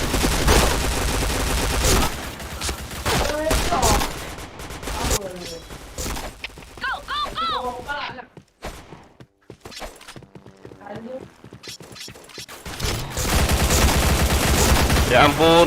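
Gunfire in a video game comes in dense, loud bursts of rapid shots at the start and again at the end, with quieter effects and spoken voices in between.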